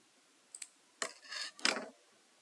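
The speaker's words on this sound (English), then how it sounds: "you can simply snip it off right here like I'm going to do" Scissors snipping off the extra ribbon on a handmade bookmark, a few quiet close-up clicks and short cutting strokes with no talking.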